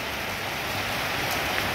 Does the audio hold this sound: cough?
no